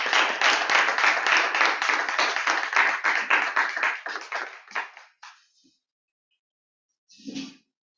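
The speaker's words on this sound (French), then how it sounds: "On le raccompagne en l'acclamant" Audience applause for a speaker leaving the stage at a Toastmasters club session: dense, steady clapping from many hands that thins out and fades after about five seconds, followed by a brief lone burst of sound near the end.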